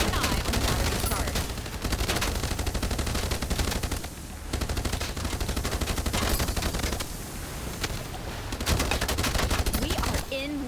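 Shark turrets on a vessel fire rapidly in Age of Water, a naval combat video game, producing dense, loud, continuous machine-gun-like bursts with short pauses between volleys.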